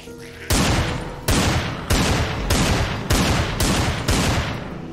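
Pistol gunfire in Minecraft during a zombie apocalypse prison survival, with six loud, evenly spaced shots in a steady rhythm, each a sharp blast with a short decaying tail.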